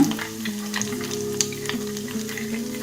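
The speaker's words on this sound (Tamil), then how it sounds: "ஓரளவுக்கு பாதி வதங்கினதுக்கப்புறம் நிலக்கடலை போட்டுக்கலாம் இந்த ஸ்டேஜில் போட்டுக்கலாங்க" Peanuts fry in a pan with partly sautéed ingredients for lemon rice, making a steady close sizzle with small crackles and pops throughout, no voices.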